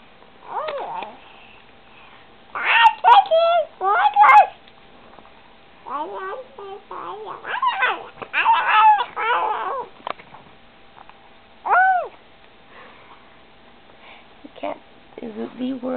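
A cat meows in several separate bursts between quiet pauses, close by, with a few soft voice-like sounds mixed in.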